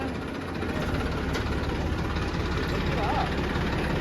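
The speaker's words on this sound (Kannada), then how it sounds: "ನಾವು ಕಾರಲ್ಲಿ ಹೋಗ್ತಿದೀವಿ" Car engine running while driving, with a steady low rumble and vibration inside the cabin and people talking over it.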